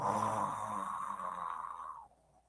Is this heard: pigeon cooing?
no